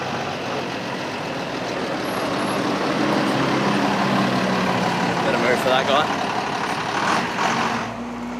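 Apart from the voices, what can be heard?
bus engine running in Costa Rica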